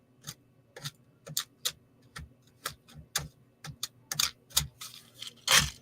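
Dirty computer keyboard keys clicking in irregular bursts, a dozen or so crisp close taps with short pauses between them, no talking.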